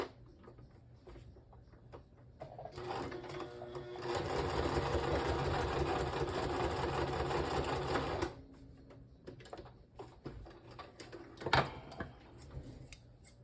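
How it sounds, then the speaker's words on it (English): A sewing machine that has caught a staple runs in a loud, steady burst of rapid stitching for a few seconds, with quieter mechanical clicks and handling before and after. "I think I caught that staple in my sewing machine."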